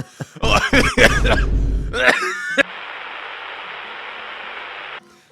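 Several loud, close coughs in a quick cluster, followed by a steady hiss of noise that cuts off abruptly.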